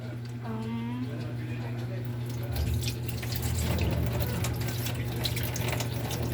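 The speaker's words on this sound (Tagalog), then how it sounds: "Tapon mo na yung tubig." Rice washing water pours and splashes steadily into a sink, growing a little louder partway through, with a brief voice in the background at the start.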